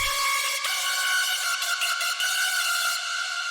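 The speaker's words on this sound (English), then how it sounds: "And again, it's a screechy type lead." The second, screechy and harsh hardstyle lead synth layer made in FL Studio, a bright, rasping sustained tone with slight pitch wobble playing a short phrase with brief breaks, heard alone.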